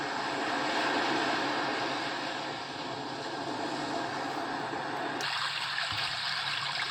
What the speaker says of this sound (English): Actually, that's not too bad for the sound of a brook.